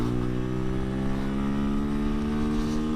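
A 2024 CFMOTO Papio SS minimoto engine is held at its roughly 10,000 RPM rev limiter, giving a loud, steady, buzzing high-rev drone close by with no breaks.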